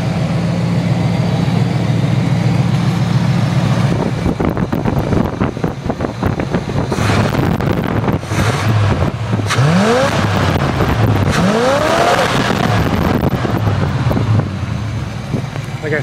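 A 1986 Oldsmobile Cutlass engine runs loudly and close, a steady rumble with rising and falling revs under heavy wind buffeting on the microphone.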